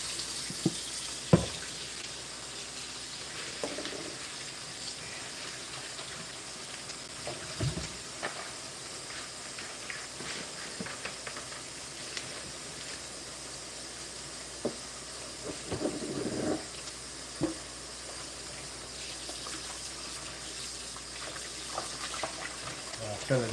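Tap water runs into a kitchen sink as it fills for dishwashing with a little bleach added, a steady low wash with scattered clinks and splashes over about twenty seconds, fairly quiet and heard alone.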